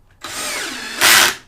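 A power drill whirs steadily, then pitches up and strains louder for a moment as a screw bites into a wooden chest of drawers, before winding down.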